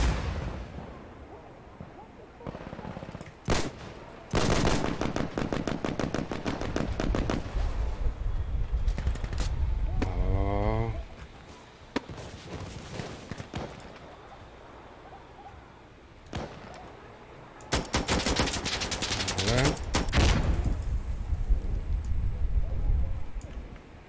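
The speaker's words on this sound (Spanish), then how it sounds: "Están disparando desde el puente," Gunfire in the tactical shooter Insurgency Sandstorm, with loud bursts of automatic fire and single shots cracking out in clusters, some near and sharp, others duller, over a constant battlefield rumble while players talk.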